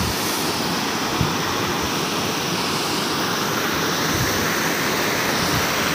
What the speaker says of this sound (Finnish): Nämä on vähän tämmöinen koskimainen putoussysteemi.